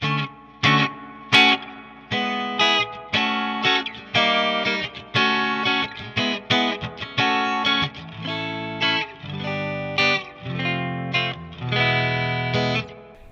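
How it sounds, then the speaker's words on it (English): Electric guitar played through a Peavey Triumph 60 amp with reverb on, strummed chords and picked notes ringing out with a spacious, washy tail, no talking. "I'm going to put the reverb on 5 and inject it here with the foot switch"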